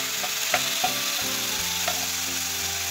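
Marinated chicken goes into a pan of frying garlic and ginger, giving a dense, steady sizzle with a few soft knocks as it is stirred, close up and without voices.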